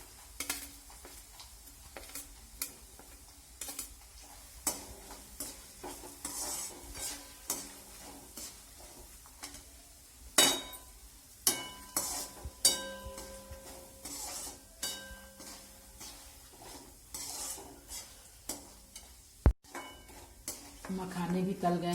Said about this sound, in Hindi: मखाने भी डाल करके फ्राई कर लेंगे।